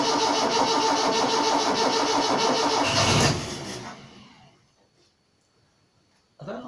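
A Simca Aronde Plein Ciel engine fires and runs loud and close with a rough, steady beat for about three seconds. It then dies away into near silence, and a brief noise returns at the end.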